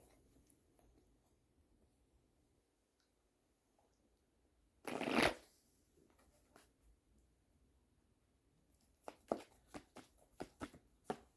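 A deck of tarot cards is shuffled in one brief, crisp riffling burst, followed after a pause by a run of quick light card taps and flicks in a quiet room.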